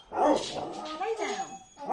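A dog barks and yips indoors in a short, close burst of uneven woofs, loud at first and then softer, with no talk over it.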